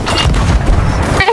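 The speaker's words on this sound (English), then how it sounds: "I'm shooting cannons!" Cannon fire in the video game Sea of Thieves, a dense, loud booming blast lasting about a second, close and heavy, with a brief trailing tone after it.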